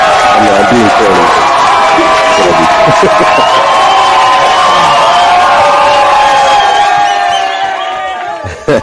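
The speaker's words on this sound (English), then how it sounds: "That was a long cheer." A live studio audience cheers, whoops and shouts loudly for a long stretch, a dense steady roar that fades slightly near the end.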